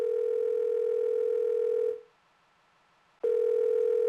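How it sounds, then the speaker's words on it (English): A steady electronic ringback tone from a telephone in Again: Interactive Crime Novel holds for about two seconds, breaks into a short silence, then starts again. The tone is clear and close, with no voices. "No one's answering the phone, just ringing."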